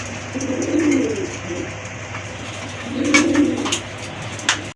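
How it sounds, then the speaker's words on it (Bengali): Two soft, low pigeon coos in sequence from a white-breasted pigeon pair, close by, each a rolling throaty call, over a faint steady hum with a few light rustles. "এটা হচ্ছে বুক সাদা এক জোড়া গড়া কবুতর"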